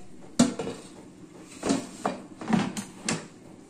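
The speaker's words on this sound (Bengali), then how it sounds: "চলুন তাহলে এটা এয়ার ফ্রায়ারটা ঢুকিয়ে দিই" Metal clunks and scrapes come from an air fryer basket sliding into place while peels are being air-fried. There are several sharp knocks spaced across a few seconds, close and moderately loud.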